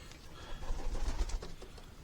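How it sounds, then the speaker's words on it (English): A large pigeon coos in a workshop, a faint low soft cooing under background noise. "that's a massive pigeon."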